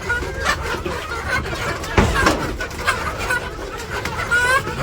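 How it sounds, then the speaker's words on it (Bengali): Chickens clucking excitedly as they are fed in a village yard, a dense overlapping stream of clucks and squawks with a few louder calls, close by, with a voice talking underneath. "মুরগির আগে খাবার দিয়ে যাই।"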